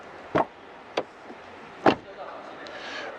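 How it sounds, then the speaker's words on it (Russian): Door of a Chery electric car shutting, a few sharp solid thuds spaced apart with quieter clicks after, close and fairly quiet with little else around. "Эта дверь закрывается с таким благородным звуком, что редкость для китайских автомобилей"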